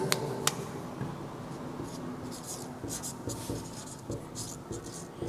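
Writing on a board during a friction lesson, steady scratchy strokes of chalk or marker with brief taps and pauses, close and continuous, with no speech.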